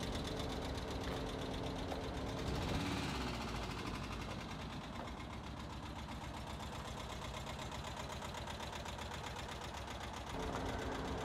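A 1978 sage green Westfalia poptop bus warming up in the morning, its engine running with a steady, continuous mid-range drone and faint knocking texture, close and even throughout without voices.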